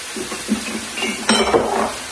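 Capsicum tossed into an electric wok and stirred through a chicken and vegetable stir fry with sauce and cashews, giving close metallic scrapes and clinks over a steady sizzle.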